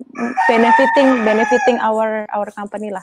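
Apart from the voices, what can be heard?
chicken crowing nearby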